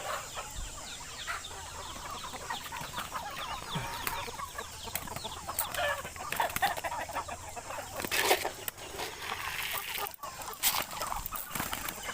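A crowded backyard coop of chickens, about four months old and kept during the rainy season, fills the air with steady overlapping clucks and squawks nearby, a few louder calls rising near the end, and no one speaking.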